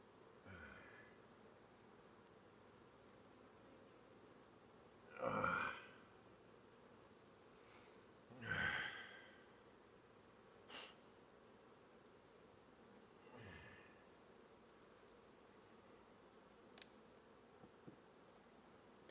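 Agitated honeybees buzz around a beekeeper's veil during a late-July hive inspection, faint background hum broken by a few louder close passes of individual bees near the face, with brief clicks and rustles.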